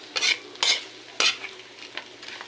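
Pancit canton noodles being stirred in a pan with plenty of mixed ingredients, three distinct scraping swishes at a steady rhythm over a low sizzle, close and fairly loud, no talking.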